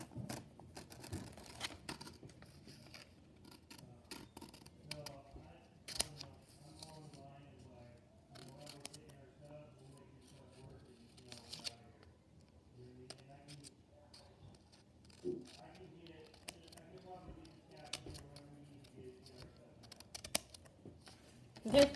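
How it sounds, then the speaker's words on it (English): Scissors snip the corners off a homemade paper Pokémon card in a run of short, crisp cuts, with a person talking throughout. "Make sure to cut out the corners."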